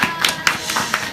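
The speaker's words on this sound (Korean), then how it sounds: "박수도 한번 주세요." Scattered applause from an audience at a Seoul street talk show, a few loose bursts of clapping repeating about every quarter second with some tapping, moderately loud and without speech.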